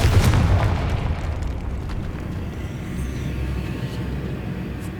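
Casting the Confringo blast spell in Hogwarts Legacy sets off a loud booming explosion at the start, its deep rumble trailing off into a long, steady low roar.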